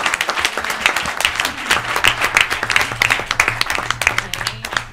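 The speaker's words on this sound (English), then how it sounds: "could we just do a round of applause for our" Loud, close applause from the audience at a school board meeting, many hands clapping in a brisk, continuous patter with a faint low hum beneath.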